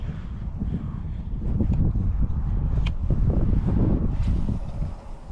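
Strong wind gusting along a riverbank on a fishing outing, a rough low rumble buffeting the microphone, steady and close throughout with no voices.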